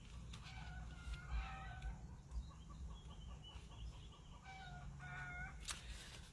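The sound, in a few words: chickens clucking noisily as they go to roost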